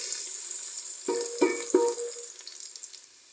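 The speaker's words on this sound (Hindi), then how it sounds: "इसको 2 मिनट के लिए हम फ्राई करेंगे" Garlic ginger paste frying in a pot: a soft, steady sizzle with three quick metallic clinks of a stirring spoon in the middle, faint and close, without speech.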